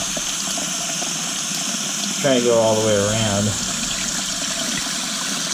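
Running water splashes steadily under a voice, with a brief gush rising midway as containers are rinsed out.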